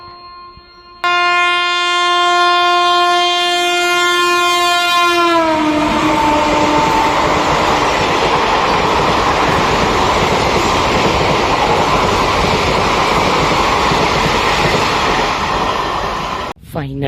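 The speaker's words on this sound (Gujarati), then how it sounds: "તો હવે પાછી આ બાજુ ટ્રેન આવી રહી છે." A Botad–Bhavnagar passenger train, number 59229, sounds a long, loud horn as it draws into the station, followed by a heavy, continuous roar of wagons rolling past close by.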